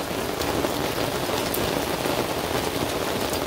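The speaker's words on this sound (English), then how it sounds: "It's raining." Rain falls at a lake and is heard from under an umbrella as a dense, steady patter of drops striking the fabric close by, even and unbroken throughout, with no talking.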